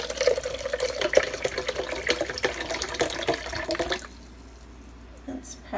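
Coconut water pours steadily into a blender or container for a homemade smoothie, a continuous close liquid splash that stops abruptly near the end, followed by quieter room sound.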